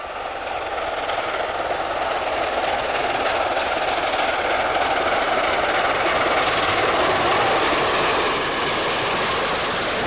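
The Mallard steam locomotive leaves York at the head of a train, a loud, steady, broadband roar of running that holds close and constant throughout, with no separate exhaust beats standing out.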